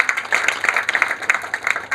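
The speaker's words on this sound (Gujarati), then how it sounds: "આ એમની મહાનતા માટે બીજી તાળી." Applause from an audience, a steady patter of many hands clapping at once, fairly loud and continuous throughout.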